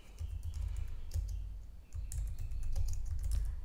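Steady typing on a computer keyboard, a continuous run of close, quick key clicks and taps with no voices.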